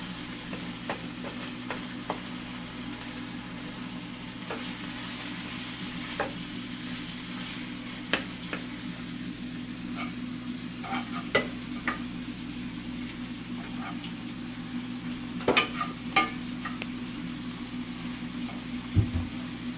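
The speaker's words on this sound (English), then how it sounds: "now I need to take some time and mix it in." A spoon stirs hot sauce through food sizzling in a hot pan, a steady frying crackle under repeated scrapes and clacks of the utensil against the pan, with no talking.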